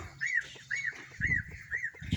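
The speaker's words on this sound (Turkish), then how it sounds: "çok güzel hayvanlar şu Amerikan ördekleri ya." Muscovy ducks call in a short series of four or five soft, evenly spaced peeping notes at moderate distance, with faint low rustling and thumps between them.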